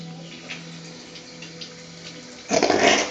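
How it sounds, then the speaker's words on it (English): An eco bidet washer in a hotel toilet in Kuala Lumpur starts spraying water near the end, a sudden hissing gush that rises over a low steady hum. "But here we have the eco washer."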